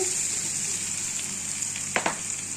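Garlic paste fries with browned onions in a pan, giving a constant loud hiss and sizzle with a couple of sharp stirring scrapes near the end, and no talk.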